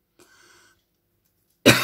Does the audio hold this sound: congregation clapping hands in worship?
no